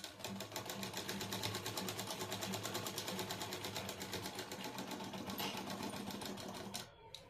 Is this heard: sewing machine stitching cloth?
yes